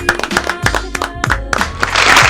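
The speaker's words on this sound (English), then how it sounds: "Let's give a round of applause." Applause and scattered clapping from a comedy show audience, dense and building toward the end, with a few louder claps standing out.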